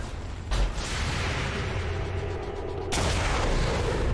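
A gunshot in XCOM 2: War of the Chosen: a sudden loud blast near the start, sustained rumble, then a second sharp burst before the end, with no talking.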